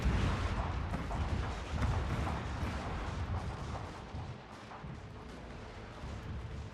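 Armstrong guns fire artillery in a Fall of the Samurai Total War battle, producing a dense, continuous rumble of booms and overlapping gunfire, steady and heavy throughout.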